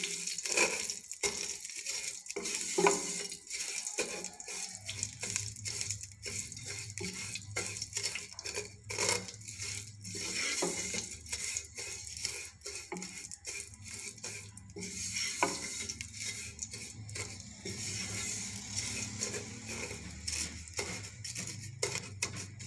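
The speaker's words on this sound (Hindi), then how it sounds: "सेवइयों को हम हल्के से इसमें फ्राई करेंगे" Vermicelli (seviyan) frying in a pan and being stirred, with soft sizzling, faint scraping and clinks of a utensil against the pan, quiet and steady throughout.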